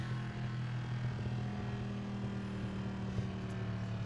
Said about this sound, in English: Freaking love that engine note though